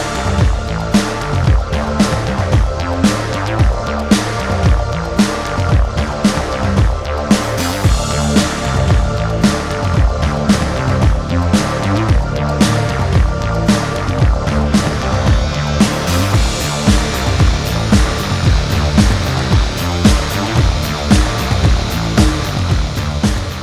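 Pneumatic impact wrench rattling out carrier bearing bolts beneath a 1963 Chevrolet Bel Air with a 4-speed transmission, in dense repeated bursts that run almost continuously at close range with no voices.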